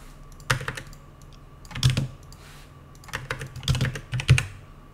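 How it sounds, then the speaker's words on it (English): Keyboard shortcuts are tapped on a computer keyboard while working in Revit, heard as short clustered bursts of key clicks with pauses between them, close and clear with no voices. "much quicker, using a bunch of keyboard shortcuts"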